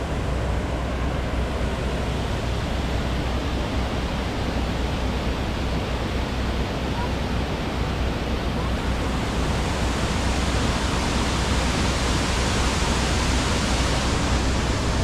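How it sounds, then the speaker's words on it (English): Main waterfall, Skradinski Buk, in a national park in Croatia, a loud, unbroken rush of falling water roaring evenly for the whole stretch, close by and with no voices heard. "we're now at the main waterfall down here."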